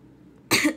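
A single sharp cough bursts out after a moment of near silence, close and fairly loud, then fades quickly.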